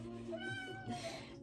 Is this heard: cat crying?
yes